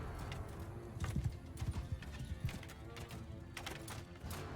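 Horses in the game Mount and Blade 2 Bannerlord give a run of rapid clip-clopping hoofbeats over a continuous background ambience, with the horses moderately close and no talking.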